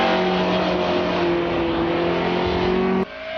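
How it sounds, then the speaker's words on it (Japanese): Spoon Honda Civic Group A race car engine at Tsukuba circuit, a loud steady high-pitched race engine drone held at sustained revs, then dropping abruptly near the end as the throttle lifts. "そんな思い出が詰まった一台グループ A マシンのサウンドが今つくばによみがえる"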